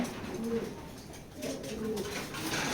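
A young black racing pigeon from 2024 gives soft, repeated low coos at close range in a steady throaty rhythm, over a faint room background.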